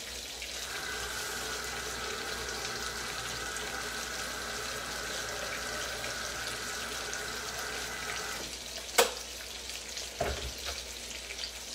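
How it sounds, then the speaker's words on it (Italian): An electric kettle heats water with a steady, low rushing hiss and a faint whine that stops, followed by a couple of sharp clicks near the end. "Qui c'è il bollitore, 30 secondi è pronto."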